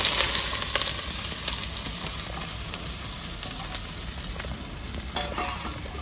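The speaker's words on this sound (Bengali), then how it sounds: "পেঁয়াজটা ভালো করে ভেজে নেবো" Chopped onions fry in hot oil with a steady, close hiss and soft crackle that holds evenly throughout, with no voices over it.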